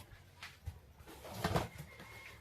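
Pigeons coo softly nearby in short throaty bursts while being hand-fed, with light rustling and pecking sounds around them.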